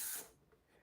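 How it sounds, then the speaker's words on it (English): Spray bottle releases a short, wide burst of mist, a quick loud hiss that fades away fast in a quiet room. "I love the way this sprays, how it gives you a wide spray."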